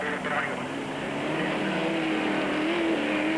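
Castrol Toyota and Land Rover off-road race vehicles with long-travel suspensions race around a 1996 Super Series circuit; engine drone and a rising whine sit under a commentator's voice.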